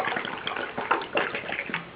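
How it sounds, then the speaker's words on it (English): A 500-milliliter bottle of water is poured out in a steady splashing, gurgling stream, close and continuous with uneven glugs, no talking. "And we're just going to pour it out."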